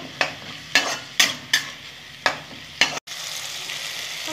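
Spices with turmeric stirred in a frying pan for a chutney, six sharp spoon scrapes over a sizzle at a regular rhythm, then a brief cutoff before the sizzle resumes, no talk.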